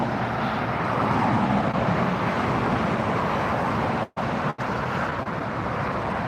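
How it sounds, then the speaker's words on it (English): A United Boeing 737 MAX 9 arriving at LAX produces a steady, loud broadband jet roar that holds level throughout, broken by two brief dropouts near the end. "737 MAX 9 on United."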